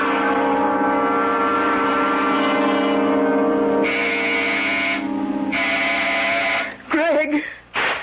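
A door buzzer in an old radio mystery drama: a sustained, harsh electric buzz for several seconds that shifts pitch partway through, then breaks off into brief tonal warbles at the end.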